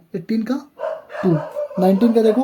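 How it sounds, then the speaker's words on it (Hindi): Dogs bark in the background of a village, with several short yelps under a man's steady, close lecture voice that dominates throughout. "सॉरी पीछे कुत्तों की आवाज़ आ रही होगी"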